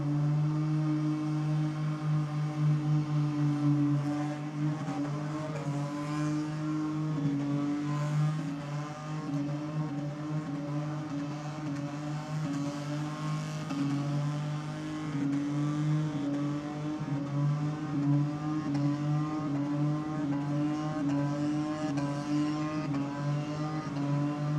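A car doing a burnout at a competition event, its engine revving hard and holding a loud, steady drone with rising and falling pitch as both rear tyres spin and finally blow, close and continuous throughout.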